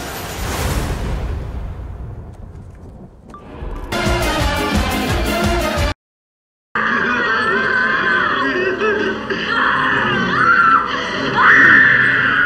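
A woman screams and wails in high, strained bursts amid dramatic sound from the original The Texas Chain Saw Massacre, with a jarring cut to silence midway before the shrieking resumes.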